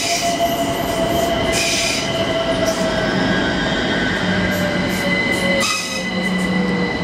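A train rumbles steadily past on the rails, loud and close, with high squealing wheel tones running over the constant roar.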